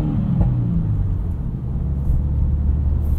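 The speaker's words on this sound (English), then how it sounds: "Got some pops and bangs there from the exhaust." A 2022 Subaru WRX Premium with a six-speed manual burbles and rumbles steadily from its exhaust, with a few soft pops and bangs mixed into the low engine drone, heard up close from inside the car.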